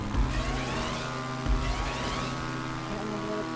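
A supercar engine drones steadily in Grand Theft Auto V as the car drives along, a continuous mid-level hum with slight swells, no talk over it.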